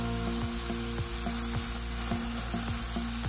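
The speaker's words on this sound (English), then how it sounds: "I'm going to go ahead and let this one sear up on both sides for about a minute and a half" Steak sears over the hot direct side of a Slow N Sear grill, a dense loud sizzle running throughout with a few light clicks and scrapes of tongs, close up and with no talking.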